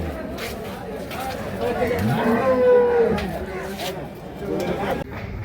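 A Holstein Friesian cow with her calf at a cattle market gives a single low moo midway through, amid people talking and general market chatter.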